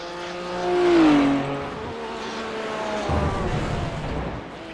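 Race car engine in a racing simulator, a close engine note that swells to a loud rev around the first second, then holds a steady droning tone at moderate level, no talk.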